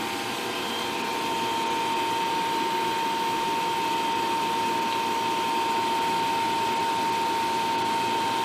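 Potted electric motor running under load on a test stand at about 1700 RPM, a steady, loud, continuous hum with a fixed whine and no change in pitch throughout.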